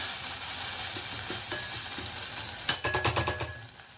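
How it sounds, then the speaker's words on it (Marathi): Water splashes into a pan of onions fried dark and nearly burnt for mutton pulao, raising a sudden burst of loud, crackling sizzle over a steady frying hiss, then settling into several pulsing bubbling surges. "आता म्हणजे थोडंसं पाणी घालूया, म्हणजे कांदा शिजायचा थांबेल जरा."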